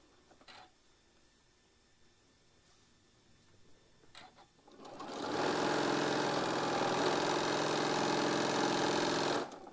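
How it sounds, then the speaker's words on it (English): Sewing machine stitching quilt block pieces, quiet at first with a few soft clicks, then a loud steady whirring run of stitching lasting several seconds before stopping. "Now I'm going to go ahead and sew my B's and C's."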